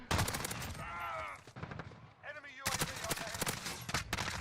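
Rapid bursts of gunfire from a Call of Duty Warzone match, loud and close, crackling between shouted player talk with a brief lull in the middle.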